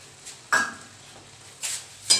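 A spoon scrapes and clinks against a pan while carrot halwa with sugar, cashews, nuts and cardamom is stirred, giving three short, fairly close metallic scrapes separated by quiet pauses.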